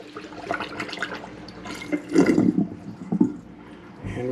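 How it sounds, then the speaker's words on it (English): Water running from a hotel kitchenette sink faucet after the drain was snaked, a continuous close rush of flow with some clattering and movement over it. "Just gotta leave that water running while we finish up"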